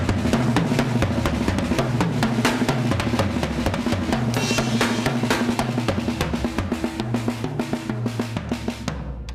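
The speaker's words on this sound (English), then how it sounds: "this is a thing with the grace notes on the snare." A drum groove with left-hand grace notes on the snare fills the space between the main hits, a steady, busy pattern of kick, snare and cymbals played close and alone throughout.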